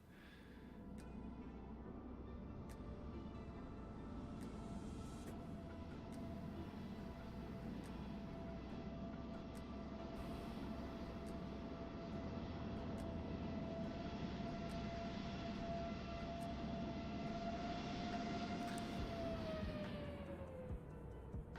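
Engines of a Fenix A320 airliner in Microsoft Flight Simulator give a steady, loud jet roar with a sustained whine during landing, and the tone winds down near the end as thrust is cut.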